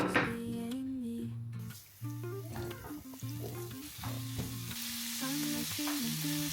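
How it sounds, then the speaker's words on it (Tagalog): Prawns are stir-fried with garlic and onion in a pan, giving a steady sizzle with occasional stirring scrapes, mostly under gentle music playing over the cooking. "Mag-stir fry. Lagyan ko siya ng prawns."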